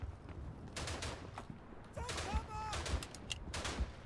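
Gunfire from German soldiers in the First World War shooter Verdun: scattered, crackling rifle shots and bursts at middling distance, irregular and layered, with a voice talking over the battle.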